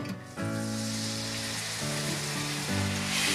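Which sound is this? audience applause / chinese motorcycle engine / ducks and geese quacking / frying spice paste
frying spice paste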